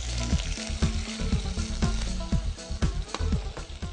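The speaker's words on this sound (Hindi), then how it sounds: "आप इस पैन में 3 टेबलस्पून बाल्सामिक सिरके के डाल दें और आग कम कर दें क्योंकि ये सिरका बहुत जल्दी इवेपोरेट करेगा" Balsamic vinegar hitting a hot pan with garlic, giving a loud, close, continuous sizzle with crackling pops and a few clinks, with no voices.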